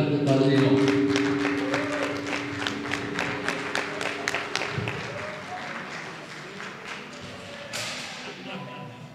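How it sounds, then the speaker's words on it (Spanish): Applause from a small group at an Alcoholics Anonymous meeting welcoming a sponsor to speak, a burst of uneven claps close by that thins out into scattered hand claps with voices murmuring underneath. "recibámonos con un aplauso al asesor padrino Pedro"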